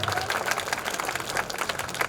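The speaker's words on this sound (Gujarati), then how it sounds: "દીકરીઓ માટે તાળીઓ પડી છે" A crowd at a school event at Aadrsh Vidhyalay claps for the girls, a dense, steady patter of many hands filling the short stretch, with some voices mixed in.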